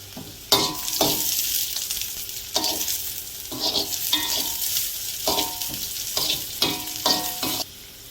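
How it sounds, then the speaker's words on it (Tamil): Green chillies frying for Chettinad masala, stirred in a pan: a bright continuous sizzle broken by a string of scraping stirs at irregular intervals, close up and without talk. "அப்புறம் பச்சை மிளகாய் சேர்த்துக்கலாம்."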